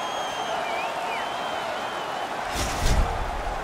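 Hockey stadium crowd in NHL 22, a continuous roar of distant cheering that swells into a louder burst of applause near the end.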